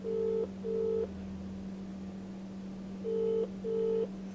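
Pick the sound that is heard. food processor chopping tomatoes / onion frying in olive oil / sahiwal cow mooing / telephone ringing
telephone ringing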